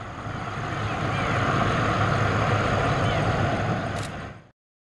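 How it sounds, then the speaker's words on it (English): An army plane flies past with a steady, rushing engine roar that swells and holds for a few seconds, then cuts off abruptly. "Army plane."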